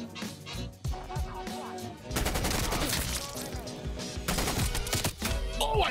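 Dense gunfire and automatic weapon bursts from a Call of Duty Cold War match, with a quieter stretch giving way to loud, sustained firing and crashing impacts that overlap a voice talking.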